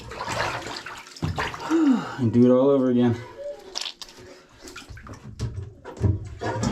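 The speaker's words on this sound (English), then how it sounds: "And we're going to drain the water" Water drains from a bathtub after washing a climbing rope, a gurgling, swirling flow with a rising burbling tone in the middle, heard beneath someone talking close by.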